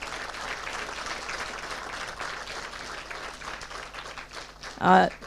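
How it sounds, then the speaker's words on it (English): An audience at a university policy and economic data centre event applauds the chief guest, steady clapping running underneath a speaker's voice before a louder burst near the end. "Please stand up and give a big round of applause to our chief guest."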